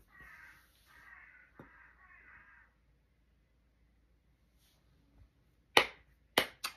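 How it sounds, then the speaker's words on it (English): Crows caw in a few hoarse calls early on, fairly distant and faint, followed by quiet and then several sharp, loud snapping hits near the end. "Think the crows have said it all."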